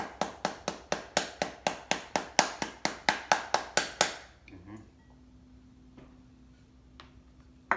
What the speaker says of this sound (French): prends quelque chose d'assez solide, une grosse cuillère, puis on tape de même